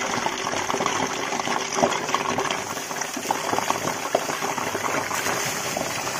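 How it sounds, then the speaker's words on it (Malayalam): Kozhi ada, chicken dumplings, frying in hot oil, a steady loud sizzle and bubbling hiss with small crackles throughout, close by and continuous. "എണ്ണ നന്നായിട്ട് ചൂടായിട്ടിട്ട് അപ്പോൾ നമുക്കിങ്ങനെ ഓരോന്നോരോന്നായിട്ട് നമുക്ക് എണ്ണയിലേക്ക് ഇട്ട് കൊടുക്കുക."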